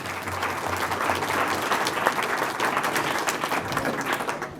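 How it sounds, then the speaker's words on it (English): An audience at an evening event in the Irish Centre breaks into sustained applause, a thick, even roar of many hands clapping together that carries on throughout. "Just a round of applause. Come on, let's hear it."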